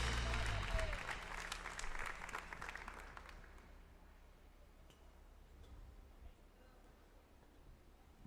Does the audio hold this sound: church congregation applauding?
yes